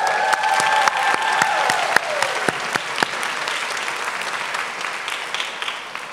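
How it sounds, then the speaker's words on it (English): An audience at the Berkley High School commencement in June 2022 gives sustained clapping that gradually thins and fades, with no speech over it. "Please join me in giving them another round of applause."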